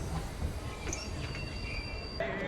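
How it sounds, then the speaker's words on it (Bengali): Passenger train hauled by a WAG-12 locomotive, steady wheel rumble with a thin, sustained high squeal of wheels on rail, close and continuous throughout. "passenger train with WAG-12 engine"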